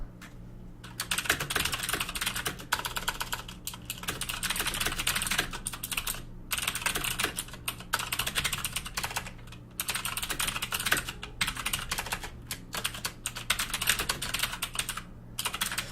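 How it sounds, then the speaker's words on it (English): Steady, clacky typing on a mechanical keyboard, close and continuous, with a few brief pauses between bursts of keystrokes. "Sorry for the loud keyboard. It's a mechanical keyboard."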